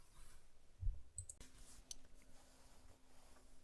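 A computer mouse clicks sharply a couple of times while logging in to an online school data form, the clicks close and crisp over a quiet room background.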